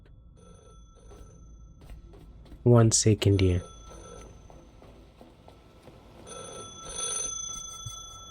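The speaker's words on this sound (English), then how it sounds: "Okay, who's gonna get that phone?" A telephone bell rings in a loud double burst partway through, inside the video game The Last Caretaker, with a short stretch of talk and a quiet in-game background around it.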